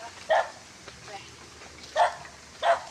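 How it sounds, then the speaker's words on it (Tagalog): A dog barks a few times at some distance outdoors, three short sharp yaps spread across a few seconds, with a person talking nervously nearby in between. "May aso, baka kagatin tayo."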